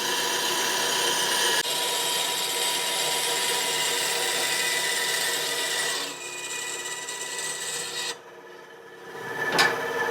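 A power tool cuts small pieces of aluminum close by for a junkyard jetboat build, producing a harsh, continuous grinding rasp that shifts in tone, drops off near the end, and finishes with a brief sharp scrape.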